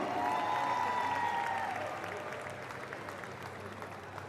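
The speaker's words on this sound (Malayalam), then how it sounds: "ആ ചക്കര കൊച്ചിനെ നല്ലൊരു കൈയടി കൊടുത്ത് സ്വാഗതം ചെയ്തേ." An audience at a film audio launch event claps to welcome a child onto the stage, with steady applause that slowly softens over a few seconds while music plays underneath.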